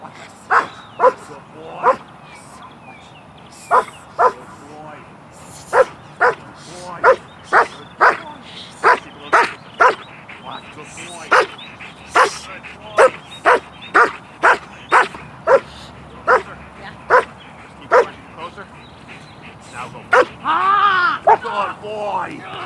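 A protection dog barks repeatedly and aggressively at a stranger in sharp, evenly spaced bursts, close by, with a few whimpers and a person talking underneath.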